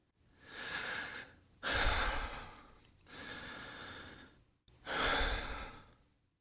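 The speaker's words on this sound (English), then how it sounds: "I'm already doing the breathing thing." Slow relaxation breathing, close and intimate: four long, deliberate breaths alternating airy inhales and exhales with brief pauses between them, and no talking.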